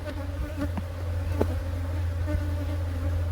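Honeybees buzz in a steady, droning hum around an opened hive box during an inspection, a continuous close swarm sound with no talk.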